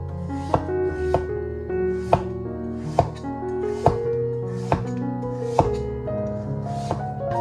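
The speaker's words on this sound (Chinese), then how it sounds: "再切成薄片。" Knife slicing a peeled pumpkin into thin slices on a cutting board, a series of about nine crisp evenly spaced chops close by, each a sharp tap over a faint background.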